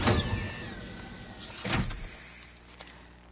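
A door opens in the Code Violet game with a loud mechanical whirring slide that fades, then a second heavy surge of sound. Fainter clicks and a short knock follow as the noise dies away. No voices are heard.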